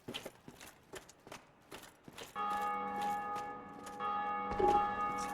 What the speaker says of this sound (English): every time someone rings that bell, it means they completed a certain part of the game that requires you to literally ring a bell